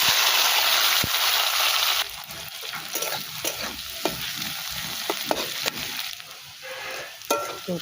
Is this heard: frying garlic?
yes